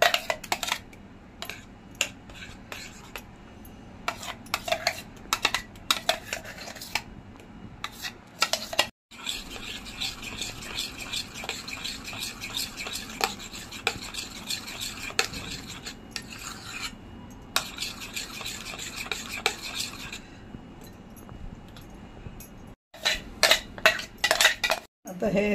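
Spoon stirring Devgad Hapus mango pulp into a mixture for mango ice cream, with repeated scraping and clinking against a metal bowl, steady and close, briefly pausing now and then.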